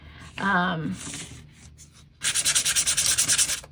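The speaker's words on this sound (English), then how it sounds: "sand those edges, soften up that paint" Painted popsicle sticks are sanded to distress them, with a close rhythmic rasp of repeated back-and-forth strokes that starts after a short voice and scattered rubbing.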